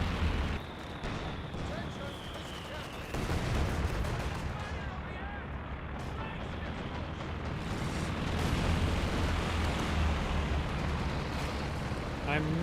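Dense battlefield gunfire and heavy explosions from a Company of Heroes 2 strafing run, a continuous loud roar of shots and blasts with a voice talking over it.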